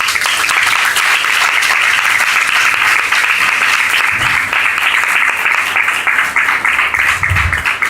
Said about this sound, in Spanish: Un aplauso a Jesús.